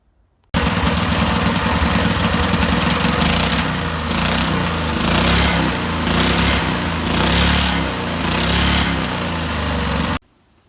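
A twin-engine longtail river boat's motor runs loud and close, a rough, buzzing engine drone that pulses in regular surges for about ten seconds before cutting off abruptly.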